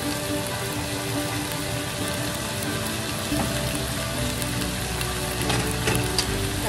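Soy sauce sizzling with onions in a pan for chicken adobo, a steady dense frying hiss like rain on a surface, close and continuous throughout.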